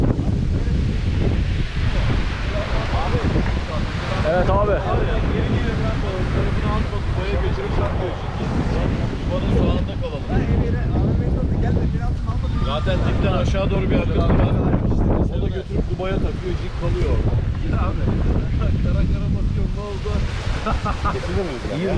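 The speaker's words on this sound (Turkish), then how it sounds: "Mekana geldik ama inanılmaz rüzgar var." Strong gusting wind roars across the microphone nonstop at a lakeshore in İznik, Turkey, with surf crashing nearby and people talking underneath the blustery noise.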